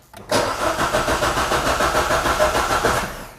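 A car engine cranks over and catches, settling into a steady, loud, close running rumble after a brief silent start.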